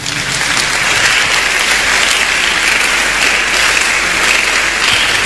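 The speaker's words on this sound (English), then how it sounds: "Clap for Jesus." A church congregation claps steadily and loudly, producing a dense, continuous wash of applause with no pauses and little talk over it.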